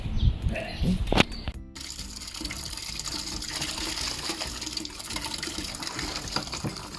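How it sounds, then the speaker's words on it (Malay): Water gushes from a tap into a used bucket left with plaster of Paris residue, beginning with clattering handling and then settling into a steady, loud pouring and splashing fill. "baldi yang telah ni digunakan ni tadi hendaklah direndam dengan air secepat mungkin"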